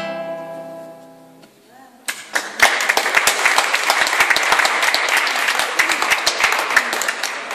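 After a fading musical tone, an audience breaks into dense, sustained applause that keeps going strongly to the end.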